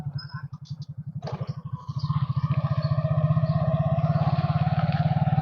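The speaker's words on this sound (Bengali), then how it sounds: "গাড়িটা এখন আস্তে চালাবো।" A motorcycle rides slowly along a village road after overnight rain, its engine putting in a steady low pulsing rhythm that grows a little louder and more even, with no clear talk.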